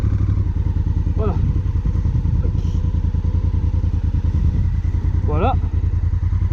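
A 2016 Honda Africa Twin, a heavy motorcycle, rumbles steadily close by while being ridden off-road in a field, with clattering thumps under the engine drone and a voice speaking over it.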